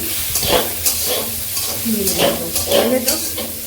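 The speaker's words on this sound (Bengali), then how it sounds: "তো এখন কড়াইয়ে দিয়ে দেব কেটে রাখা ক্যাপসিকাম আর মটরশুঁটি" Capsicum and peas stir-fried in a wok over high flame: loud, close sizzling with rhythmic scraping strokes of a spatula repeating about every half second, no talking.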